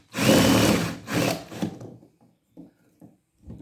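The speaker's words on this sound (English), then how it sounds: "Push the cap down with the drill." A power drill presses a copper rivet cap down while fitting rivets on a Huon pine dinghy: two short whirring bursts up close, followed by a few faint knocks and scrapes.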